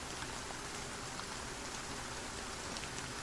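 Steady rain used as an ambient backdrop for a tabletop roleplay session, a dense, even hiss of falling drops with no voices, soft and constant throughout.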